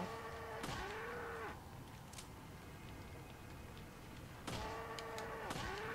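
A cow in the video game Resident Evil 4 lets out two long, loud moos, one early and one near the end, with a quieter gap of game ambience between them and no talk over the calls.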